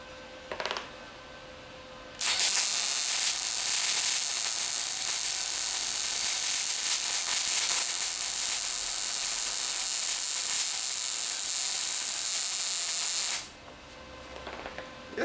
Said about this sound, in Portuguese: E assim você solda, de forma simples.